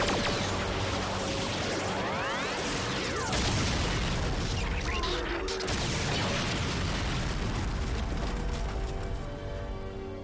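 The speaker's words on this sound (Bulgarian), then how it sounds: "Стрелба по оръдието." Cannon blasts in a TV action show, dense booming bursts and explosive rumble layered with mechanical clatter, loud and continuous throughout.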